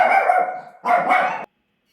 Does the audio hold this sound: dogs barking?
yes